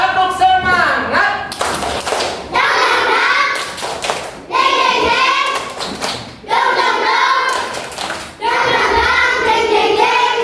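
Classroom of children doing a rhythmic 'tepuk semangat' clapping chant during a religion lesson on obligatory prayer, several loud bursts of unison claps in patterned groups, with energetic young voices chanting along between them.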